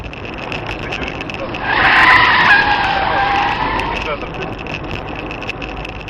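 A car brakes suddenly at a U.S. intersection, its tyres skidding in a harsh screech that swells for about two seconds over steady road noise and then fades.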